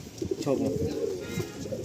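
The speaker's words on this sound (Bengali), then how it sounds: "কালদম পায়রা বাচ্চা" A Giribaz Kaldam pigeon chick gives soft, low, close coos in a short series while people talk nearby.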